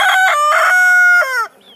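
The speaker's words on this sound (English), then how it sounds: "Here comes the rest of the chickens." Rooster crowing nearby in a backyard chicken flock, one loud sustained cock-a-doodle-doo with pulsing opening notes that fades at the end.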